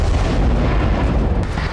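A loud, dense missile explosion blast near Lviv, a heavy rumbling roar that fills the whole moment without a break.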